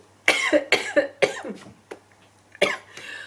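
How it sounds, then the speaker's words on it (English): Several sharp coughs in quick succession, close and fairly loud, followed by a softer cough and a brief throat sound. "my cough."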